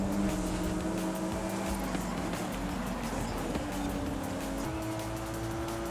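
A Toyota Supra in Forza Horizon 5 revs its engine hard through gear changes with a constant, droning roar, racing with a lot of throttle at a moderate level and no voices over it.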